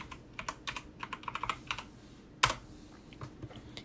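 Typing on a computer keyboard while entering login credentials on a Raspberry Pi, a quick run of close key clicks with small pauses and one sharper, louder keystroke partway through.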